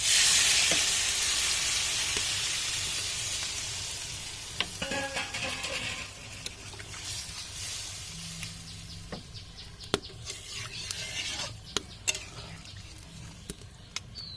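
Water poured into a hot pan of country chicken curry sends up a loud burst of sizzling steam that slowly fades into softer bubbling, with a few clinks and stirring taps toward the end.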